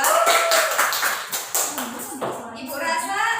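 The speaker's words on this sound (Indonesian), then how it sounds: "Beri tepuk tangan kepada kelompok" Students in a classroom clap for a presenting group, a loud burst of close, scattered hand claps that thins out toward the end, with voices chattering around it.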